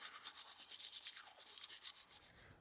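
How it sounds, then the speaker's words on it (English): Close, brisk toothbrush scrubbing at a steady back-and-forth rhythm, someone brushing their teeth outdoors on a cold morning when the water had frozen. "I'm taking this opportunity to brush my teeth"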